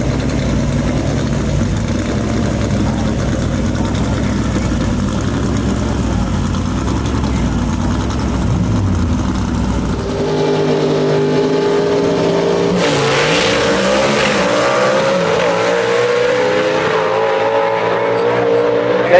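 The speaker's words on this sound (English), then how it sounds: "Leah Stelz bringing back her husband with the Fulton Race engine under the hood." A gasser drag race car powered by a Fulton race engine rumbles loudly at Shadyside Dragway, idling with a deep, uneven burble before the engine revs and changes pitch, close by, with an announcer talking over it.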